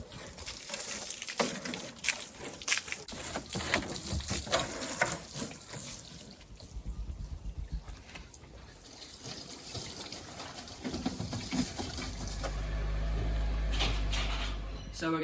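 Water splashes and runs over a car during a quick wash before polishing, gushing in uneven bursts with irregular spattering and a louder, steadier rush toward the end.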